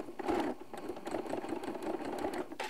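A sewing machine back stitches through fabric and batting on a Christmas tree decoration, a quiet, rapid mechanical whirring with short stops and restarts, near and alone.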